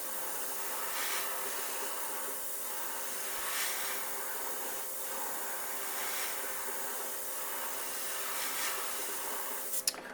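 Spray paint airbrushed as a yellow green coat onto a fishing lure, a continuous close hiss with slight pulses of pressure, steady throughout with no voices.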